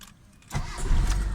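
A car engine cranks once and catches right away after an ignition coil and distributor repair. A short burst is followed by a steady, close idle rumble.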